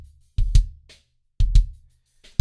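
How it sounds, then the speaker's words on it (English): Kick drum played on its own in a Logic Pro drum mix, thick and punchy: two close pairs of booming low hits about a second apart, clean with no other instruments or voices. "Just my kick."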